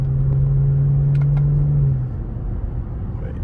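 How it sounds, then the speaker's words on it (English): A BMW 540i with its exhaust valves closed lets out a loud, steady turbo whine over deep engine rumble for about two seconds, then the tone drops away and the engine settles into a lower rumble. "Pops are on, but valves are closed, so we can hear the turbo scream a lot more."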